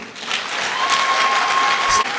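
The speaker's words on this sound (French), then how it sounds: "les étudiantes et étudiants tiennent à dire merci en applaudissements, en standing ovation à leur parrain, M. Abdoulaye Baldé" Students at a diploma ceremony give a standing ovation, a dense, steady burst of many hands clapping at close range that holds level throughout and breaks off abruptly near the end.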